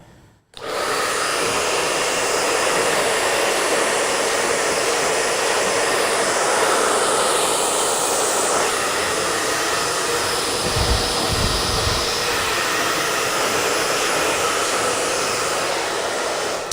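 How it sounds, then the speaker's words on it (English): A powerful Minerva Beauty blow dryer drying hair after a short haircut switches on abruptly and roars loud and steady close up, with a brief low buffeting where the airflow shifts. "If you like a blow dryer with power, this thing will take the shingles off your house"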